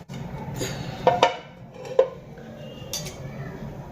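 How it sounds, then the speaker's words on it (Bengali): A metal lid placed over a bowl of nimki dough, a couple of distinct clanks and clinks of cookware against a muted kitchen background, close and brief. "এবার আমি পনেরো মিনিটের জন্য একটা ঢাকনা দিয়ে ঢেকে রেখে দেব"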